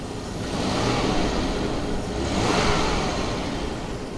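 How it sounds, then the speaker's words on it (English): A Jaguar XJS engine revs twice in smooth swells, its clutch-driven cooling fan adding a broad turbine-like whoosh from the front of the car, moderately loud and steady with no talking. "When you step on the gas, you get that sort of turbine-like whir from the front of the car."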